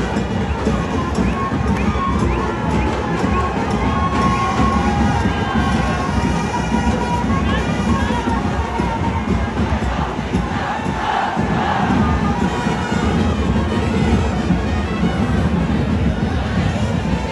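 A dense, loud crowd roars and shouts continuously at the Aai Ekveera palkhi procession of 2024, with overlapping cheers and chants sustained throughout.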